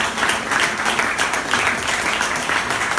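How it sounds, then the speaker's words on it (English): A live podcast audience at an evening talk event gives sustained, dense applause, an even wash of many hands clapping together at steady loudness throughout. "We get a double round of applause."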